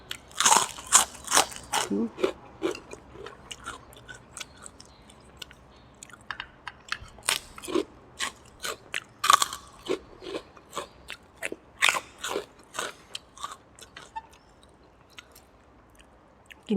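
Crisp potato chips crunch loudly between bites of pork noodle soup topped with plenty of fried garlic, a close, irregular series of sharp crackling chews and bites with quiet gaps between them.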